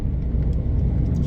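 Classic Mini car cruising at about 40 mph on a road, a steady, loud engine and road rumble that holds evenly throughout with no gaps.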